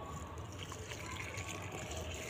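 Leftover water mixed with homemade fertilizer is poured into a potted rose plant, making a steady, close, continuous trickling pour that runs evenly for a couple of seconds.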